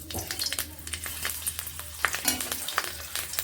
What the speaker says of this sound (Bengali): কড়াইতে একটুখানি তেল গরম করে নিয়েছি দিয়ে দিচ্ছি দুটো কাঁচা লঙ্কা